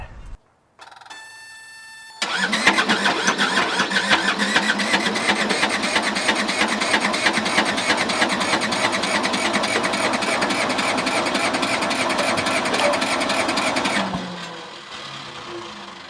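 A cheap skid steer with broken piston rings cranks over for about twelve seconds, a loud, fast, rhythmic chugging that sounds close to catching but never fires, then cuts off; a brief electronic beeping comes just before the cranking.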